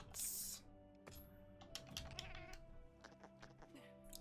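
Cats meowing in the video game Monster Hunter Wilds, a cluster of faint, high calls mixed with keyboard clicks and light background game sound.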